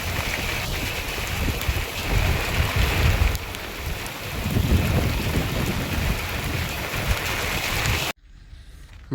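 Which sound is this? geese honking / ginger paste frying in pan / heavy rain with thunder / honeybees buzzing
heavy rain with thunder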